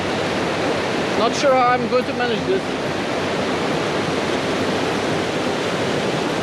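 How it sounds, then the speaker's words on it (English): A wild mountain river on a solo hike toward Musala, Bulgaria's highest peak, roars as a loud, steady broadband rush of water filling the whole clip, close by, with someone speaking briefly over it. "the river is pretty wild."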